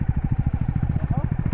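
Engine of a single-cylinder sport motorcycle, a KTM Duke 390 or Bajaj Dominar 400, at a drag race: a close, rapid, steady throbbing pulse with a slight rise near the end.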